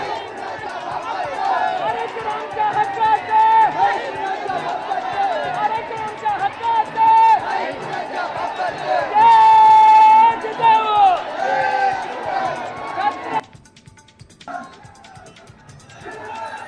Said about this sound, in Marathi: सीएसएमटी स्थानकावर मराठा आंदोलकांची मोठी गर्दी झाली